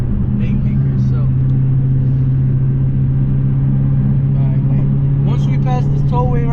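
Inside a Dodge Hellcat fitted with a Legmaker intake, the engine drones with a loud, constant low rumble and a faint supercharger whine on top, while people talk over it toward the end.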